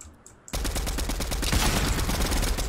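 Rapid gunfire strafes a wall in Fortnite Chapter 3 arena play, starting abruptly after a half-second of near quiet and then hammering on as a loud, dense, continuous burst of shots.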